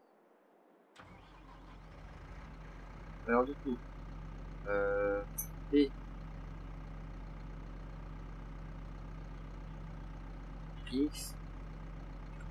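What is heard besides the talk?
tractor engine starting and idling in video game Farming Simulator 22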